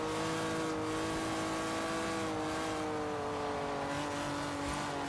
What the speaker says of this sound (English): I wonder if this Valiant has a 6-cylinder in it or an 8-cylinder, because it's revving pretty high for an 8.